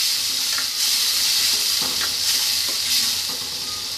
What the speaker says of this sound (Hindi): देखिए, मसाला भून रहा है हमारा।